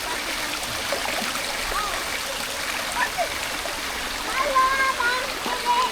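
A stream flows steadily with splashing water, joined by faint chirps and brief voices in the background.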